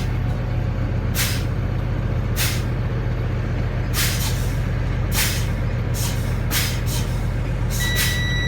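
Truck air brakes pumped repeatedly inside the cab, several short bursts of hissing released air over a steady low engine idle, spaced irregularly with brief gaps.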